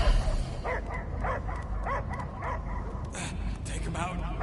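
A dog barking and whimpering in short repeated bursts amid an animated scene, with people talking over a low rumbling background.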